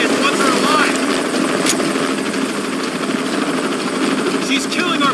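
Helicopter rotor and engine drone steadily and loudly throughout a combat scene in the video game Shadow of the Tomb Raider, with game voices speaking over it.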